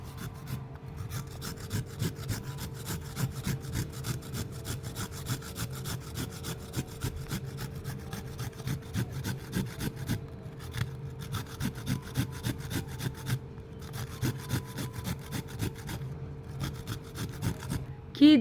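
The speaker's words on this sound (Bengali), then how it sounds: "তো গাজর ঘষে নেওয়া হচ্ছে।" A carrot is grated for halwa with quick, steady rasping strokes, each scrape close and distinct, repeating rhythmically throughout with short gaps between bursts.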